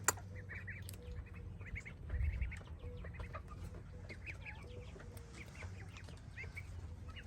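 One-week-old ducklings on a farm peep and chirp in scattered high calls against a low background hum, with faint clucking fowl nearby and no talk.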